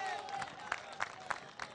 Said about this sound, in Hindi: तालियों के साथ उनका भी अभिनंदन कीजिए